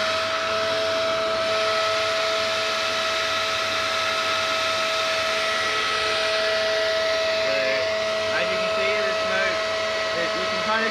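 A homemade smoke machine runs continuously with a steady, loud motorized whine and a constant high tone, like a vacuum-type fan, unchanging for the whole stretch with no pauses.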